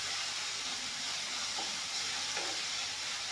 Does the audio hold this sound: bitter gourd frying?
yes